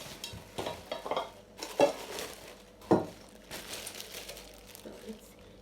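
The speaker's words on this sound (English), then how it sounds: "And I also got a bigger pot." Metal cooking pots and lids from a kitchen unboxing are handled, giving a few sharp clanks and scrapes among softer rustling and knocks. A voice talks faintly in the background.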